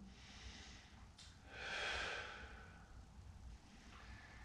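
A single audible exhale during a yoga lunge pose, soft and close, rising and fading over a quiet room background.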